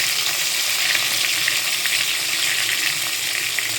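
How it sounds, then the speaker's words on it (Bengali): Large Ganges river prawns frying in hot oil give a steady, dense sizzle that crackles evenly and close for the whole stretch, with no voices. "চিংড়ি মাছগুলো ছাড়ছে।"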